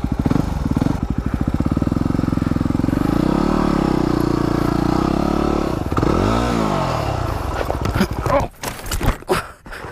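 A dirt bike labours up a steep hill, its engine droning loud and steady before faltering, followed by tumbling clatter and scraping as it wrecks near the end.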